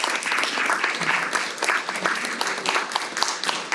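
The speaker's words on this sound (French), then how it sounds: "On peut applaudir les gens de l'accueil ce matin." A church congregation at a Sunday service applauds the welcome team, a dense burst of many hands clapping close by, steady for a few seconds.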